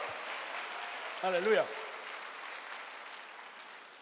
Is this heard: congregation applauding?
yes